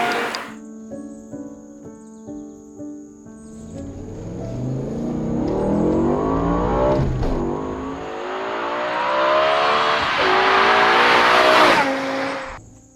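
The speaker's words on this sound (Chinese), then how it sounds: "完全是来自于这颗 S85 的 V10 引擎" A BMW E60 M5 with its S85 V10 engine idles, then revs and accelerates hard, the loud rising howl building and sweeping up through the gears before cutting off.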